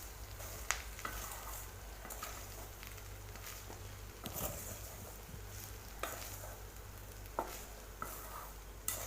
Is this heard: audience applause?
no